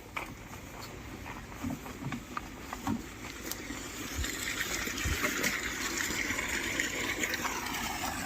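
A motor pump sends water gushing into a well on a farm at wheat harvest time. The flow rushes steadily, close and fairly loud, with a constant machine hum and no talk.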